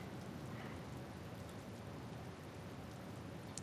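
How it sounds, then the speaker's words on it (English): Rain falling in the video game Witch on the Holy Night, a soft, even patter of raindrops heard alone as a steady, faint hiss throughout. "His mind wandered as he listened to the sound of the raindrops."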